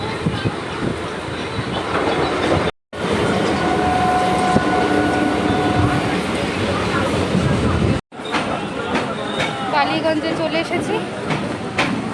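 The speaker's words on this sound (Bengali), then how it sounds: "আমাদের ট্রেন চলে এসেছে" A passenger train pulls into the station with loud, close rumbling and clattering wheels, a horn-like tone in the middle, while people talk over the noise.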